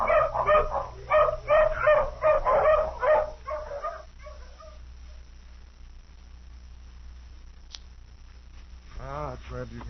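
Hounds on a scent trail in an old radio drama, a quick run of loud, close barks and yips that fades into whimpering and quieter sounds, ending with a voice beginning to speak.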